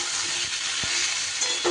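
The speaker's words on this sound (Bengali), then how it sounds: "মিশিয়ে নিয়ে 10 থেকে 15 সেকেন্ড এইভাবে নুনটা মিশিয়ে নিয়ে নাড়াচাড়া করে নিই।" Vegetables stirred with salt in a frying pan: a constant close sizzle with a soft scrape of the spatula midway, brief and steady, no voices.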